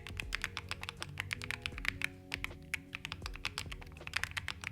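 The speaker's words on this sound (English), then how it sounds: "so this is what the keyboard sounds like." Steady, fast typing on a Keychron Q10 Max keyboard fitted with Gateron Jupiter Banana switches, each keystroke a crisp close clack in a continuous rhythm with no talking.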